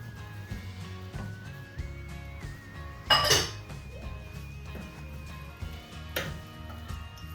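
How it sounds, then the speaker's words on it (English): A spoon clinking and scraping in a pot of egusi soup as it is mixed, with scattered metallic taps and one brighter clatter midway, close and fairly quiet. "Going to mix everything together very well."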